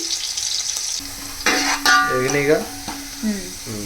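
Onions fry to golden brown in a pan for green-chilli chicken pulao: a steady hissing sizzle with stirring scrapes, and brief tonal, voice-like sounds rising over it midway.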